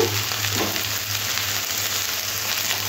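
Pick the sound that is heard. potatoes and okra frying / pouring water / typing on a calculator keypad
potatoes and okra frying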